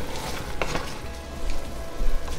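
Four cups of soaked basmati rice being stirred into hot spices on high heat, giving a steady sizzle and frying crackle with scraping stir strokes, close and alone.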